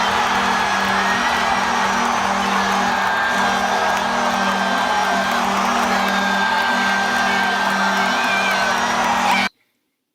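A hockey crowd at Madison Square Garden roars and cheers steadily for a New York Rangers game-tying goal, loud and sustained, before cutting off abruptly at the end.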